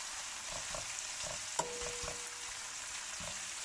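Onion frying in oil in a large cooking pot, a steady soft sizzle throughout with occasional stirring clinks and one sharp knock.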